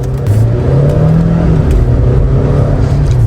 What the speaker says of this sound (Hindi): घूम घूम रेव की आवाज आपको आती है।